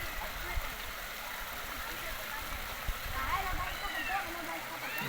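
Spring water from high up in the mountains of Swat, Pakistan rushes steadily past an iron and wood bridge, a continuous close flowing hiss and gurgle, with people audible in the background.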